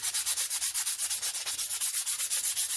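Sticky-back sandpaper is rubbed by hand along a forged herb chopper knife blade in quick, even back-and-forth strokes, about four per second, close and steady with no talking.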